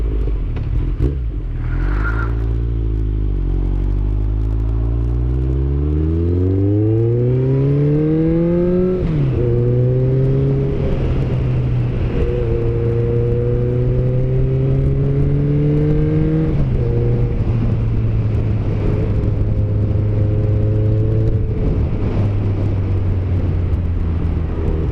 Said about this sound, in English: I'm sure you can still hear the exhaust though